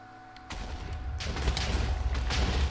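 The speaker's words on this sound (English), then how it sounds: "we can at least blow up some of the surface area and see if we can expose some more quartz" A blast in a mining video game, set off to blow away surface terrain and expose quartz: a sudden loud boom followed by a sustained rumbling, crackling roar of debris with no talk.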